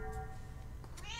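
A single house cat lets out a short mew near the microphone, a brief rising call at the end of a quiet stretch with steady low background hum.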